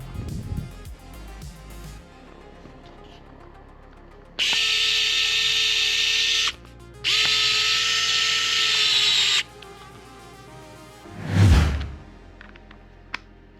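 Power screwdriver driving short screws into a JXC LR 1801 RC car wheel, two loud sustained whining bursts of about two seconds each separated by a short pause, with quieter handling noise before and after.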